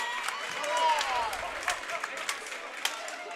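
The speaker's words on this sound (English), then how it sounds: "And the crowd really not liking that foul." A high school basketball crowd groans and jeers at a foul in a gym, a brief swell of voices and scattered claps, with a commentator talking over it.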